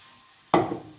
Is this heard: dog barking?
no